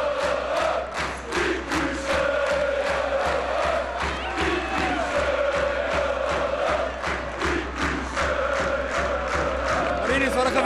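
A fanatical football crowd cheers and roars continuously at Cambuur's farewell match in the stadium, a dense, sustained wall of voices with rhythmic chanting pulses throughout.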